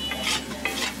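Mutton curry with chaap is stirred and fried in a pan at an Amritsar street food stall, giving a steady close sizzle with a few scraping stirring strokes.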